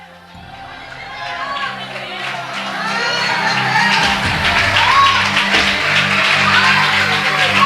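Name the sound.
church congregation applauding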